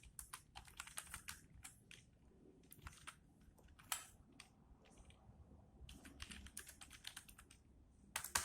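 Typing on a computer keyboard, quiet crisp key clicks arriving in quick irregular bursts with short pauses between runs, close and alone without talk.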